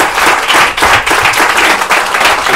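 A crowd gives loud, sustained applause at a Spanish-language event, a dense wash of many hands clapping close by with slight swells in intensity.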